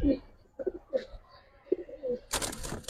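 Giribaz high flyer pigeons coo in short, low bursts close by, separated by brief pauses, while someone talks nearby toward the end.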